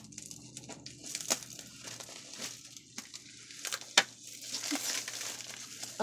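Stuffed, heavy mailed envelope being opened, its paper crinkling and rustling steadily for several seconds, close up, with a few sharper crackles and tears and no talking.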